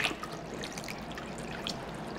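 Water trickles and splashes as it is poured into a pot to make syrup with piloncillo, a soft continuous liquid sound with a few brighter splashes and no talking.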